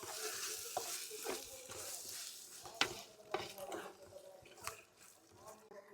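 Beef dum biryani masala with curd and lemon juice is stirred in a pot, giving scraping spoon strokes and soft wet sizzling with a few sharper knocks against the vessel, fairly close, with no talking.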